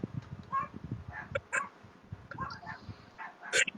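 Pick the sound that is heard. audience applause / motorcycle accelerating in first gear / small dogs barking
small dogs barking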